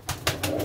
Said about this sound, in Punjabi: ਮੀਰਾ ਬਾਂਜੋ ਕਬੂਤਰੀ ਹੈ ਨਾ ਨਿੱਕੀ ਜਿਹੀ